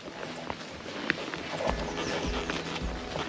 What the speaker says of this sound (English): we're going for a leisurely horseback ride.